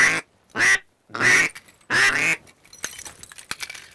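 Ducks on a small Texas stock pond give several loud, close quacks in quick bursts as they flare up and take off, followed by fainter splashing and rustling.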